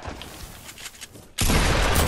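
Burst of gunfire from shooting in the video game Fortnite, starting suddenly after a quiet stretch and holding loud and sustained to the end.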